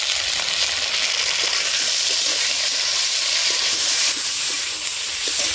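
Browned potatoes sizzling in a pan with ginger, garlic and green chili paste, for a banana blossom and prawn dish, a loud, dense, unbroken hiss of frying close by with faint stirring.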